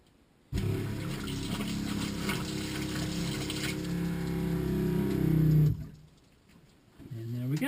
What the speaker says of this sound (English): Turn the water supply back on.